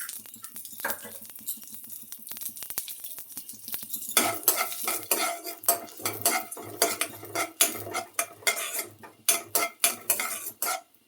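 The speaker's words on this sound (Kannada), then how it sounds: "ಚೂರು ಎಣ್ಣೆ ಹಾಕಿ ಹುರ್ಕೊಳ್ತೀನಿ." Chana dal, urad dal and coriander seeds fry in a little oil in a pan, a soft sizzle under repeated scraping and clinking of a spoon stirring against the metal, growing busier toward the end.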